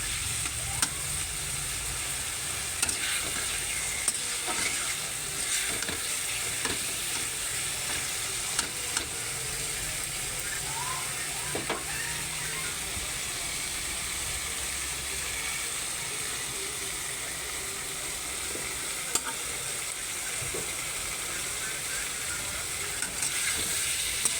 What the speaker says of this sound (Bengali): মশলাটা কষানো হয়ে গেল।